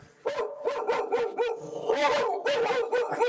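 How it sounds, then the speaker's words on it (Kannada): Dachshund puppies yip and bark in quick succession, several high, close barks and whimpers overlapping in a steady burst. "ನೋಡಿ ಇಲ್ಲಿ 2 ನಾಯಿ ಮರಿ ಉಂಟಲ್ಲ"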